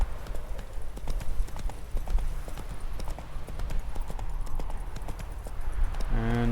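Horse hooves gallop in The Witcher 3, a fast continuous clip-clop that runs throughout at close range, with a short tonal sound near the end.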